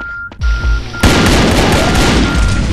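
Loud gunfire in a survival video game, a couple of sharp booming shots followed by a sustained roar of heavy firing.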